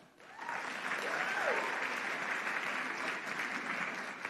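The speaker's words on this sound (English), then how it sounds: "So if you are 54 to 64, clap." An audience at a live event at Norfolk State University claps together, swelling in quickly and holding as a dense, sustained round of applause with faint crowd noise mixed in.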